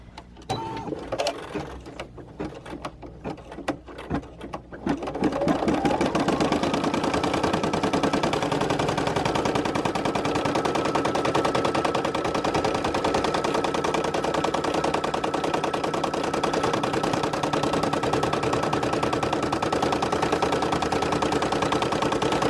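A Brother PE-770 embroidery machine stitching an appliqué onesie shirt starts after a few seconds of handling noises, then runs as a loud, steady, rapid mechanical hum with no talk.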